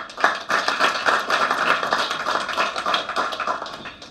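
An audience at an honoring ceremony applauds, a dense, lively patter of many hands clapping that rises quickly and carries on at a fairly even level with slight swells.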